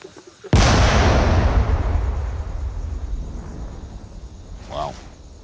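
A controlled detonation of an unexploded bomb in Laos booms as one sudden, powerful blast followed by a long rolling rumble that slowly decays, with a voice briefly exclaiming near the end.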